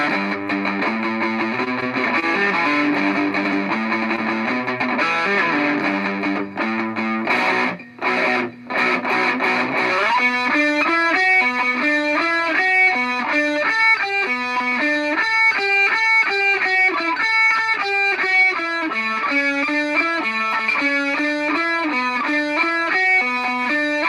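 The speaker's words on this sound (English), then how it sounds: "the distortion guitars." Heavily distorted electric guitar plays the bridge section of a song, thick sustained chords that briefly cut out around the middle, then continue as a steady, loud chugging riff with no talking.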